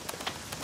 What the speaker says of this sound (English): Rain makes mud.